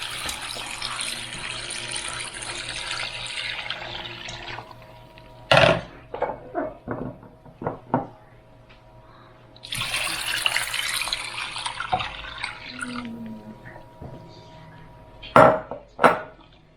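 Water runs and pours into an 8 qt Instant Pot while making vegetable broth, two long splashing streams with clinks of the inner pot and utensils in between, close by.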